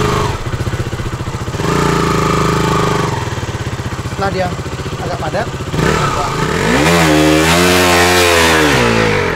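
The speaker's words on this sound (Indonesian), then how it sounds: "kemudian motor kita ayun ke depan dan ke belakang untuk memadatkan pasir." A motorcycle engine revs loudly and steadily while the bike is rocked back and forth to pack down beach sand, the pitch rising and falling toward the end, with someone speaking over it.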